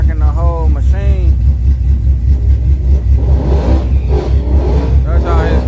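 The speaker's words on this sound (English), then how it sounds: "That's how his truck sounds." Truck engine rumbling with a steady low drone and uneven rocking throb, like an overloaded washing machine, while someone talks loudly over it and laughs throughout.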